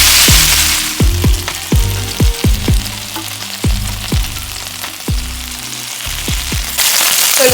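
Boneless chicken thighs frying in a hot pan give a loud, steady sizzle and crackle, with repeated sharp pops and spatters scattered throughout.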